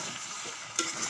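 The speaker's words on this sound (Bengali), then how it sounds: "পর এগুলোকে একটু নেড়ে চেড়ে নেব" Boiled taro is stirred in a cooking pan, making a soft scraping, sizzling stir with a brief sharper clatter near the end.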